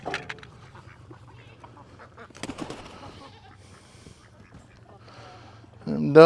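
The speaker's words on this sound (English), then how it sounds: "Them ducks love that food." Farmyard ducks quack while being fed, scattered honking calls at moderate distance with a louder burst at the end, alongside some talk.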